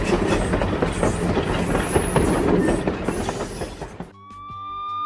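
A cartoon train rolls through a railway crossing with a loud, rapid clickety-clack of wheels for about four seconds, then the clatter cuts to a sustained horn-like tone as it clears.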